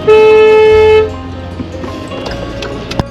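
A car horn blasts once, a loud steady honk of about a second, at the Baskopa (Durgapur) toll plaza on a road trip from Kolkata to Purulia, followed by idling vehicle noise and a few clunks.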